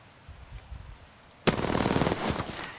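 Gunfire in the Apex Legends video game, a sudden sharp burst of rapid automatic shots that starts after a quiet moment and rattles on close and loud to the end.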